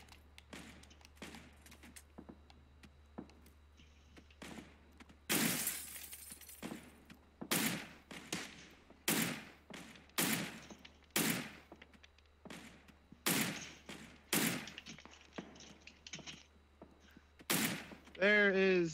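Repeated bursts of gunfire in a first-person shooter video game, loud cracks and short volleys spaced every second or so, with quieter shots early on and voices talking between them.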